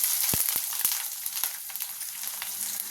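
Half a spoon of cumin, three slit green chilies and a small onion frying in hot oil for ulava charu, a steady close sizzle with a few sharp pops early on.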